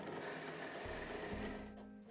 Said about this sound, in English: I made some simple jig to be able to drill the holes on the drill press